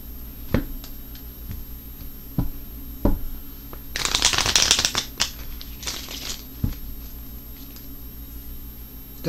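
A deck of cards being shuffled, a crisp riffling burst near the middle with a few lighter card taps and shuffles before and after, close up with a steady background hum.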